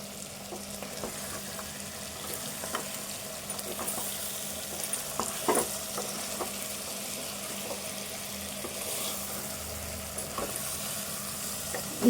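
Spice masala with salt, chilli and ginger-garlic paste frying in oil for a Telangana-style goat trotters curry, a steady close sizzle with occasional stirring clinks and scrapes, no talk.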